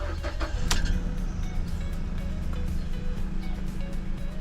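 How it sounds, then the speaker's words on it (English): A 2011 Mazda CX-7 with a crank sensor fault is started: a brief cranking burst quickly settles into a steady, close engine idle with a low rumble. "let's turn the car on"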